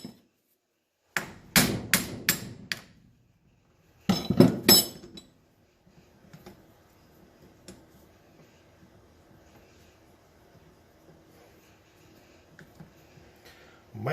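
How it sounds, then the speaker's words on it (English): A series of sharp metallic hammer strikes on a punch in two quick bursts, several blows each, knocking out a bearing from a DA sander in a shop, followed by quieter shop sounds and faint clinks. "just take a punch and hammer and knock it loose like this"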